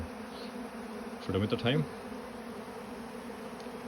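Bees and wasps at a hive keep up a steady, close buzzing drone throughout, with someone speaking briefly over it partway through.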